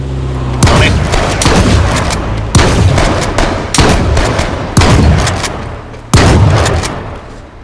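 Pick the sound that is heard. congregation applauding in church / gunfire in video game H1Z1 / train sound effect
gunfire in video game H1Z1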